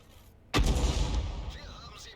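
A single loud tank cannon shot from a T-34-85M, the Soviet Tier 6 medium tank in a World War II tank game, booms out after a quiet moment and rolls into a long, fading rumble.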